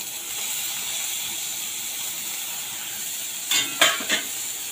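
Capsicum pieces sautéing in a pan with onions for dry cabbage manchurian, a steady soft sizzle throughout, then a few brief spatula scrapes and stirs near the end.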